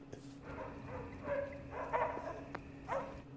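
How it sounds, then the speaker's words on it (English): Small dogs barking and yipping a few times at a moderate distance, with a faint voice in the background, in the film Crocodile Dundee (1986). "Oh, hell, the dogs are out."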